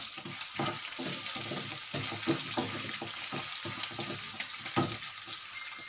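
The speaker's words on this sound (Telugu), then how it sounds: "నేను 6 ఎండు మిరపకాయలు వేస్తున్నాను" Six dried red chillies dropped into hot oil for a lemon rice tempering, making a dense continuous sizzle and crackle with irregular bursts and knocks, close and fairly loud, no talk.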